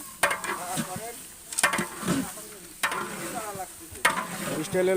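A large batch of meat, about 35 kilograms, cooked at once in a big pot for a wedding feast, stirred in four distinct scraping strokes over a steady sizzle, close and fairly loud.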